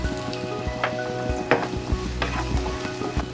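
Two finely chopped green chillies drop into a hot pan for Punjabi aloo samosa filling, giving a steady close sizzle broken by sharp crackles and stirring scrapes, with no voices.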